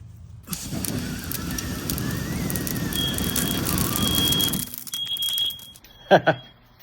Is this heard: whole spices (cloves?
no